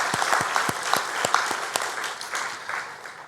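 A church congregation claps in blessing and thanks during a Sunday worship service, a burst of sharp, scattered claps that thins out and fades. Nobody speaks over it.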